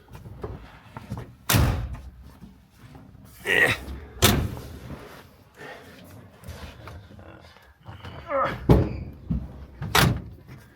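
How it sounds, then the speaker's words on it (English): Several loud, sharp thuds of car doors being slammed shut, spaced a couple of seconds apart, with people talking in between. "Shut all the doors."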